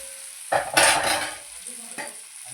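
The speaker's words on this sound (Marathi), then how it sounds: "मस्त हलवून घ्यायचं वांग असं मस्त हलवून घ्यायचं. नुसतं तेलात असं छान" Stuffed eggplant stirred in hot oil, a spoon scraping the pan with a brief burst of sizzling and clattering, then a second short scrape, close and clear.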